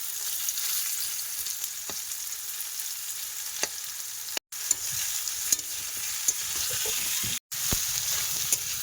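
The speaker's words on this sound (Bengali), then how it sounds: "কুমড়ো ভাজা হচ্ছে" Pumpkin pieces sizzle steadily in hot oil in a pan in a home kitchen, with a few sharp clicks of stirring standing out above the continuous frying hiss and no voices.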